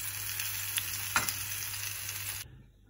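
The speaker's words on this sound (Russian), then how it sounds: "Вот жарим рыбку." Steady crackling sizzle of fish frying in a hot pan with water instead of oil, close and continuous, with a couple of sharper pops before the sound cuts off near the end.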